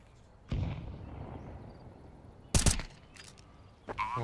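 Gunfire in an online mini game: a few sharp, loud shots separated by pauses, each a sudden burst with short decay, heard alone without talk.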